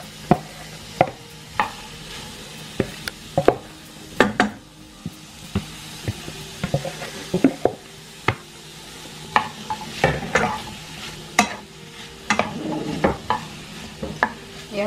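Cubed mango is stirred in a hot kadhai, a low sizzle under frequent sharp knocks and scrapes of a spoon against the metal pan, irregular and close, with no voices.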